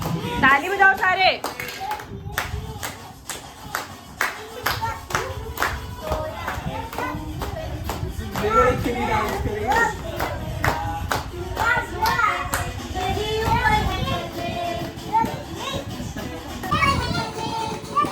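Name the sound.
family clapping hands at a child's birthday party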